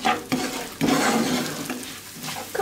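Rice roasting in a pot, grains scraped and stirred with a utensil in several sweeping strokes, soft sizzling hiss between them, close and moderately loud with no talk.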